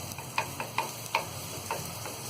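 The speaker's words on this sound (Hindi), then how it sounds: "अब डाल देंगे हम इसमें ये बहुत बारीक कटा हुआ गार्लिक। हल्का सा हम इसे फ्राई करेंगे।" Finely chopped garlic sizzles in warm butter, a quiet, steady frying hiss broken by several sharp clicks of a utensil stirring against the pan at an uneven pace.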